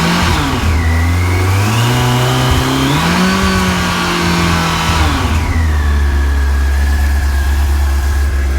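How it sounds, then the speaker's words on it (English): A Yamaha FJR 1300 four-cylinder motorcycle engine revs up and down, its pitch climbing and falling through several sustained swells over a steady deep drone, loud and close with no voices. "The FJR 1300 4-cylinder, classic sound of the FJR."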